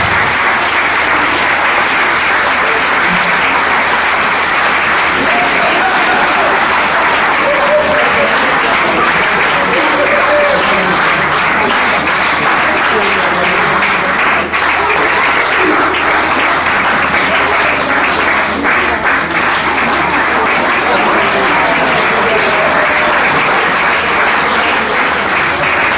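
A crowd of guests at a 40th birthday party gives a long, loud, steady round of applause, dense clapping sustained throughout with faint voices mixed in.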